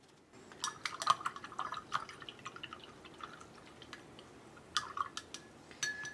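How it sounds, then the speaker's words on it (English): An acrylic paint brush being rinsed in a water cup: faint sloshing, dripping and light taps of the brush against the container, in scattered small bursts up close. "I'm rinsing my brush because there's a lot of dark on it and there's blue on it."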